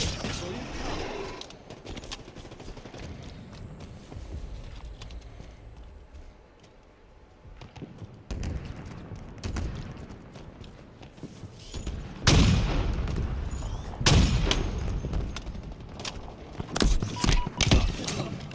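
Gunfire in the multiplayer shooter Halo Infinite: intermittent shots and sharp weapon bursts that grow louder and denser toward the end, with a player talking over much of the action.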